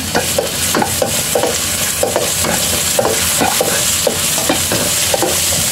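Sliced ginger sizzles steadily in hot oil in a pan for chicken curry, with regular scraping stirs that clatter close up and loud. No one speaks.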